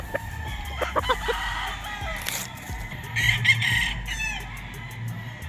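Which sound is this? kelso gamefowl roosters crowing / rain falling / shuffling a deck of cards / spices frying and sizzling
kelso gamefowl roosters crowing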